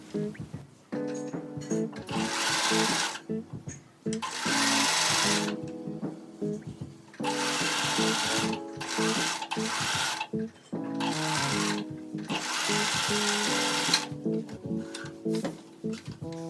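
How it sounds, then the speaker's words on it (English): A sewing machine stitches balaclava fabric pieces in several sustained runs, its motor humming and the needle chattering rapidly, with short pauses between bursts as the fabric is repositioned. "I like to start sewing from the center point outwards twice, just to make sure that everything is perfectly lined up."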